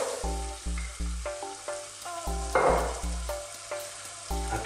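Onions going into a pan with chili powder and turmeric for a sweet potato soup, a rush of sizzling with a run of clear, evenly spaced clinks, ending in steady frying with no voices.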